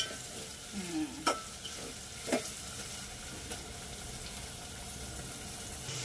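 Ten to twelve green chillies being sautéed in a pan for chicken dum biryani: a faint, low sizzle with a couple of brief scraping stirs near the start.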